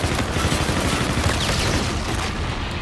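Gunfire and a grenade in a video game, a dense continuous barrage of shots and booms that stays loud and unbroken throughout, with no clear gaps between the blasts.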